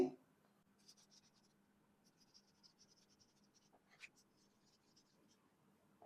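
A pen writes a word on paper at close range in short, faint scratching strokes, with pauses between them, over a quiet steady hum.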